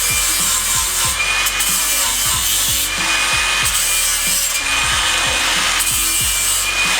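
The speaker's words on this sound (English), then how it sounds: "let's get this kind of ground up and get the crap cleaned off of it" A 3/16-inch steel plate being ground clean before welding gives a loud, rough abrasive rasp. It comes in steady repeated strokes, close up, with no talking.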